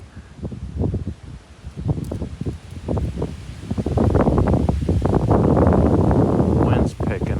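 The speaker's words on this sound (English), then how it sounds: "Wind's picking up." Wind rushes through trees in the woods, a rough rustling roar that swells louder partway through, with someone talking over it.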